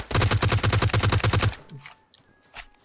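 Rapid automatic gunfire in PUBG Mobile, a loud, close burst of about a dozen evenly spaced shots that stops abruptly, followed by a few fainter, distant reports.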